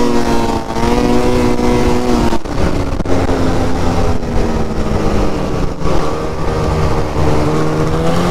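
A snowmobile engine runs steadily and loudly up close during ditch riding in poor snow, with a sustained droning tone that dips slightly in pitch partway through.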